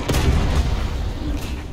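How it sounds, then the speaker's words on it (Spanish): Heavy artillery blast from an AuF1 155 mm self-propelled howitzer in War Thunder, a loud deep boom with a rumbling low-end tail filling the short moment. "Quieto este, que le voy a disparar en el techo."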